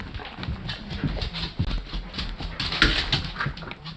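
A restless dog moving about, its feet scrabbling and tapping in quick irregular patter, with faint whimpers mixed in, close and fairly loud throughout.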